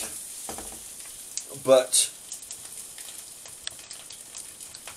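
Eggs sizzle and fry with corned beef and white rice in a hot wok, stirred constantly, with a steady crackling hiss and a louder burst of stirring noise midway; someone talks briefly.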